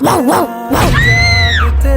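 A person imitates a dog with a run of rising and falling yelps and whines, then a longer drawn-out howl-like tone, loud and close with no other talk.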